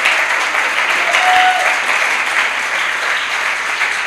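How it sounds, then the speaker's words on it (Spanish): Loud, sustained applause from a church congregation at a Christmas service, with steady dense clapping filling the room for the whole stretch and no talking over it. "y lo aplaudimos bien fuerte"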